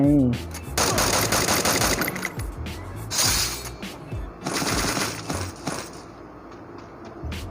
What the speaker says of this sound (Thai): มีคนยิงกันทุกคน